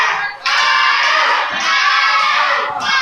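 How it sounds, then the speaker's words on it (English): A wrestling crowd cheers and shouts loudly and continuously for Spyder at a heavyweight title show, a dense wall of voices that swells in waves. "Crowd getting behind Spyder again"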